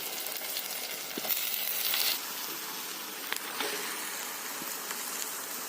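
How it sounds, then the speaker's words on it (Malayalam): Squid sizzles in a pan with cooked tomato, giving a steady, close frying hiss with scattered light scrapes and taps from stirring, and no talk. "ഇതിലോട്ട് കൂന്തൽ ഇട്ട് കൊടുക്കാം."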